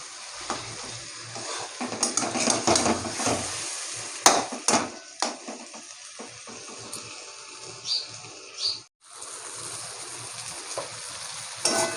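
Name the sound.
chicken pieces being sautéed with spices in a pan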